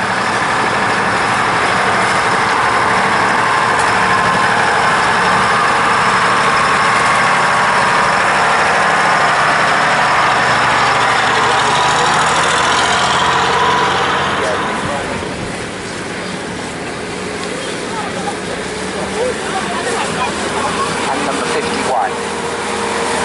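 A restored wartime American Jeep idles with a low, steady engine rumble at the military vehicle parade of a steam fair, continuous for over twenty seconds. Much of it sits under a commentator's talk, easing a little partway through.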